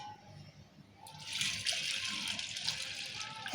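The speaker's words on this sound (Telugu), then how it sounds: "ఇప్పుడు నీళ్ళు పోసుకుందాం" Water gushes steadily into a pot of toor dal in a home kitchen, a close continuous pour starting after a quiet second and running to the end.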